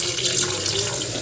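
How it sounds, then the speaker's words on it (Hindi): Hot water pours into a cooking pan while making matar paneer, a steady close splashing stream that runs the whole moment without speech. "तब गर्म पानी करके थोड़ा से डाल देते हैं"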